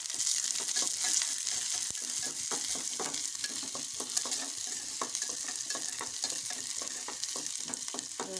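Onion fries in oil for a radish stir-fry with a continuous close sizzle, broken by frequent scraping and clicking as a spoon stirs the pan.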